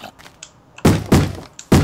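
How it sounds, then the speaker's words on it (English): Heavy thuds of a Minecraft zombie pounding on a wooden house side door, three loud close blows in a steady rhythm after a brief quieter stretch, with no talk over them. "It sounds like somebody banging on the door."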